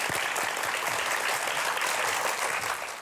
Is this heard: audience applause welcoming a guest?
yes